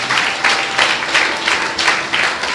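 A church audience claps together in steady rhythmic bursts, roughly three to four swells a second, loud and close with no voices over it.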